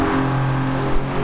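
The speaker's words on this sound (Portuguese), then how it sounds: "e o ronco bonito do V6 Biturbo," Alfa Romeo Giulia GTAm with a 2.9-litre V6 biturbo in Gran Turismo 7 gives a steady, loud engine drone with strong low harmonics, holding a sustained roar with a slight swell near the end, no voices over it.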